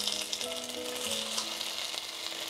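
Chilli tomato sauce sizzles steadily in a hot pan for a bread and capsicum breakfast snack, a continuous close frying hiss with faint stirring and a light tonal hum underneath, no talking.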